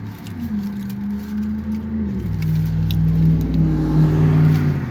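A loud Ford Mustang engine rumbles and revs, shifting to a deeper, heavier growl partway through, close and continuous with no talking.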